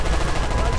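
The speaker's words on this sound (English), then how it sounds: "Oh, the artillery." Artillery fire in the Battlefield video game, a dense continuous barrage of booming blasts filling the whole moment, loud and close with no gaps.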